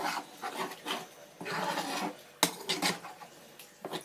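Minced beef mixture for lasagne is stirred in a pan on a hot ring, giving quiet intermittent scraping and rubbing strokes with occasional sharper knocks of the utensil, close by.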